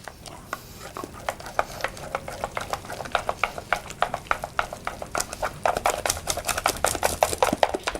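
Choux pastry dough has egg worked into it by hand, producing rapid, close, wet slapping and tapping strokes that speed up and grow denser and louder toward the end.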